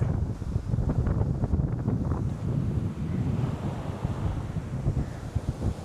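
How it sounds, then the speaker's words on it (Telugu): Cool wind at Keri Beach in Goa buffets the microphone in steady, rumbling gusts, with the wash of surf underneath and no talking. "ఆహా, చల్లని గాలి అదిరిపోయిందండి"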